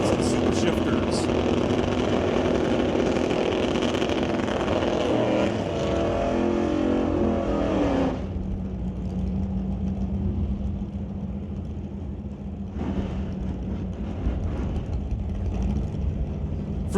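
Drag racing cars at a raceway outlaw shootout in the No Box and Super Shifters classes, loud engines roaring and revving down the strip, then dropping to a steadier drone while an announcer talks over the PA.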